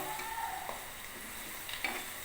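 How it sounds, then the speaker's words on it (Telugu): Ingredients for a ponnaganti greens dish frying gently in a pan, a soft steady sizzle with a few light stirring taps. "ఇట్లా కొద్దిగా వేయించుకోవాలి ఇలా"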